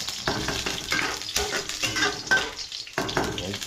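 Garlic sizzles in a pan with a steady frying hiss, broken every second or so by close scraping stirs of a utensil against the pan.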